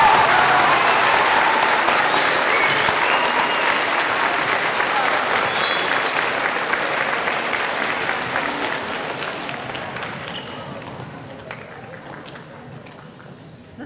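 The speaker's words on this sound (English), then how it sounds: "I think first of all you all need to stand up and give yourselves an applause" A school audience claps loudly and steadily at an Idaho school gathering, a dense wash of applause that slowly thins and fades toward the end, with some crowd voices mixed in.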